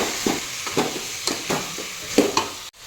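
Spoon scraping and stirring vegetables, pigeon-pea grains, potato and spices in a hot cooking pot, with soft sizzling under a series of irregular clinks and scrapes ending in a final knock.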